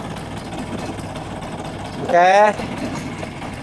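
Close, steady low putter of a Vespa PS scooter engine idling lean with some vibration, running continuously while someone briefly speaks over it.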